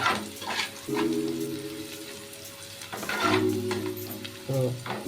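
Onion frying with asafoetida in a pan for besan bhindi, a steady close sizzle with stirring scrapes, while a tonal hum comes and goes over it.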